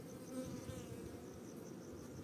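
A close, continuous buzzing of Carniolan-Italian cross honeybees, a low droning hum that holds steady without any voices.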